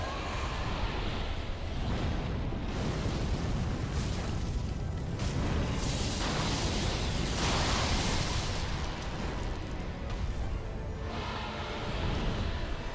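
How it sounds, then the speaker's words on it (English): A boss in Dark Souls 3 unleashes a fire attack: a dense, continuous roar of flame and blasts that stays loud and steady throughout, with surging bursts and no clear breaks. "I actually thought I was gonna get hit by the fire."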